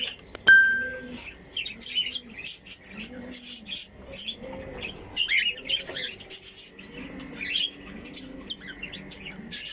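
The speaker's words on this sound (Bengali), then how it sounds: "দেখো সবগুলো লাভ বার্ড একসাথে এসে বসছে" Lovebirds gathered together in a bird-keeping setup chirp in a steady stream of short, bright tweets and squeaks, with soft repeated cooing notes underneath and a faint flutter near the start.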